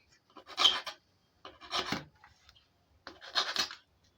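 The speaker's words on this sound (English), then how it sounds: "use your scissors to cut the mouth" Scissors snip through a metal washer for a small chain bag, making three separate close, rasping cuts, each about half a second long, with short pauses between them and no voices.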